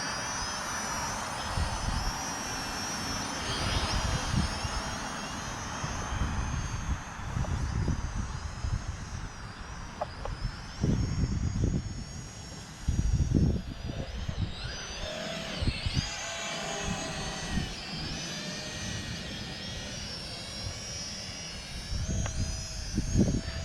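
A Snaptain SP660 drone flies steadily at moderate loudness, its rotors giving a continuous buzzing hum with high whine that shifts in pitch as it maneuvers, plus occasional low bumps of wind or handling.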